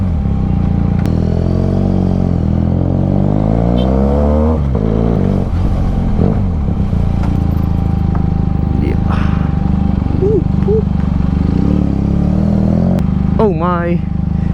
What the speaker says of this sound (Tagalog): Oh my, it's traffic. It's really traffic in here.